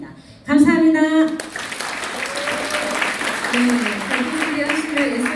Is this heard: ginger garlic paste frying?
no